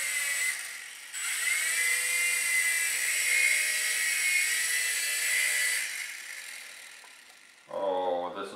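The tail rotor motor of a small, old micro RC helicopter spins up into a thin, high whir that holds steady for several seconds, drops away, then a short voice follows.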